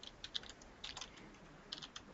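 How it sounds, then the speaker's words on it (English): Soft keystrokes tap on a computer keyboard in short irregular bursts with pauses between them, faint and fairly close, with no voices. "I'll just type that for our attendees."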